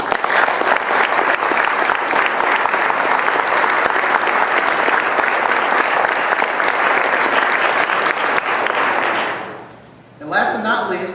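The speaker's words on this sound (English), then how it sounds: "Let's give everyone a round of applause." A large audience at a 2016 victory celebration gives a sustained round of applause, dense steady clapping for about nine seconds that fades away before a speaker's voice returns.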